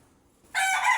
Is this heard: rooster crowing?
yes